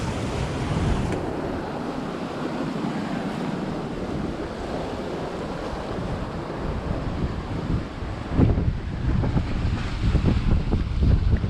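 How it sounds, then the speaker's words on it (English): Waves breaking on the shoreline beside a beach bar on the coast of St Croix, with a continuous wash of surf and heavy wind buffeting the microphone, and a louder rush of surf near the end. "It's right on the shoreline,"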